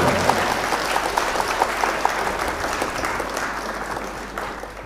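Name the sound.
audience applause welcoming poet Preeti Agarwal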